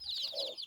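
Local chicks on a small poultry farm give a quick run of high, thin peeping chirps, with a lower cluck-like note from an adult hen in the middle, close and fairly loud.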